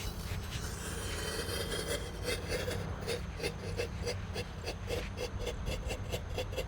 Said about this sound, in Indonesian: di sini ada disco happy flower lap ladder. Sudah menyala, kita masukkan guys.